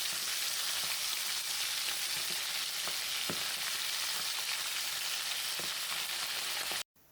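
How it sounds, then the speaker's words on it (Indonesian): Pieces of duck fry in hot oil over medium heat, a dense, steady sizzle with occasional louder crackles and spatters, heard up close with no talk before cutting off at the end. "Goreng bebek dalam minyak panas api sedang."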